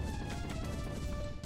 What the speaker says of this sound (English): Smashing Daisy.